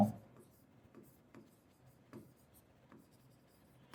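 Pen or marker strokes while writing out a biology definition, soft scratchy taps recurring in an irregular rhythm, faint and close, with a little speech around them.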